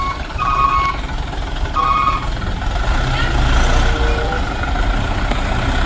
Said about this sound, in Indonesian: di sini ada dump truck warna kuning, mobil truk pasir teman-teman